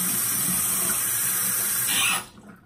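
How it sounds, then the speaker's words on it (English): A bathroom tap runs steadily into a sink while someone washes their face with hot water, a close, even hiss of flowing water that cuts off abruptly near the end. "start washing your face with hot water"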